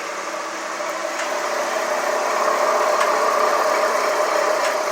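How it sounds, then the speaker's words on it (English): A worn front wheel bearing on a 2007 Ford Explorer moans as the raised wheel spins on jack stands, a steady droning hum with a faint periodic tick, loud and close with no talking. "you can hear the moaning in this side wheel"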